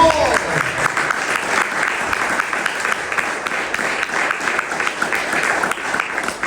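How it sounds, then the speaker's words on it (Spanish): A church congregation applauds steadily and loudly, with dense, continuous clapping that keeps an even level throughout. "den un fuerte aplauso al Señor"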